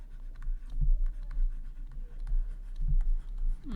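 Pen writing out an integration-by-parts maths solution, a soft close scratching and scraping in short irregular strokes, with quiet faint taps between them and no voice.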